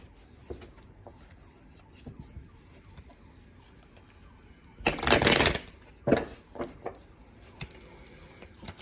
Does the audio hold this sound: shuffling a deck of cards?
yes